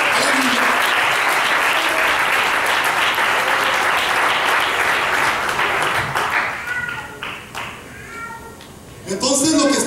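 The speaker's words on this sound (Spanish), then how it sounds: "Den un fuerte aplauso al Señor Jesucristo." A church congregation bursts into loud, sustained applause for about six seconds, then the clapping thins out while voices and calls rise, with a final swell of cheering at the end.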